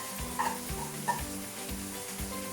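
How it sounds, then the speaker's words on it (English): Onions and leeks frying in a pan with mince and chorizo, a steady close sizzle with soft stirring clinks and scrapes over it. "next I'm going to add the onions and the leeks to the meat"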